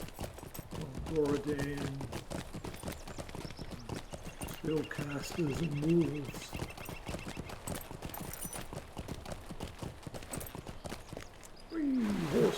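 Horse hooves clip-clop steadily in the Lord of the Rings Online video game, a fast continuous trotting patter heard close throughout, with someone talking over it and occasional game effects.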